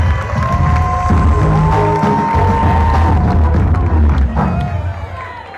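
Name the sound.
crowd applauding and cheering at political rally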